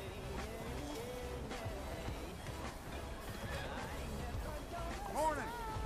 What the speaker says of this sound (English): Vamos ver se meu cavalo vem.